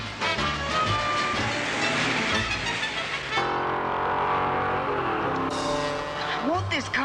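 Old car engine racing along at speed well above a 25 mph limit, loud and continuous with a rising rev, passing whooshes and a high siren-like wail near the end, mixed with sitcom music and voices.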